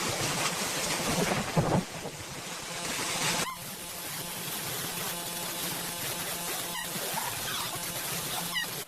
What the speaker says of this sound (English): rainfall continued across multiple regions with varying levels of intensity, accompanied by frequent lightning strikes